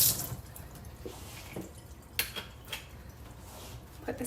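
An immersion blender is rinsed under running tap water in a sink, giving splashing and dripping with a few light clinks and knocks against the sink, close and moderately quiet.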